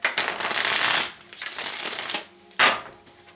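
Tarot cards being shuffled by hand in a few quick riffling bursts, close and crisp, with short pauses between them.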